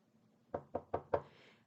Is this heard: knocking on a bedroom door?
yes